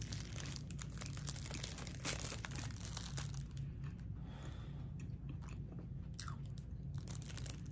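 Biting and chewing into a giant peanut-butter cookie at a Fourth of July gathering, with crunchy bites and wet chewing close to the mic over a steady low background hum and no talking.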